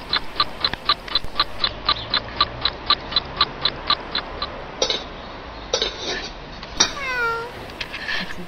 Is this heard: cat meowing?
yes